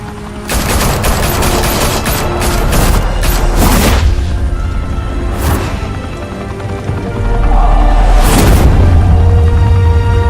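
Gunfire in a shootout in the Batman Telltale video game: dense bursts of rapid shots and heavy booms, loud, in clusters with brief lulls between volleys.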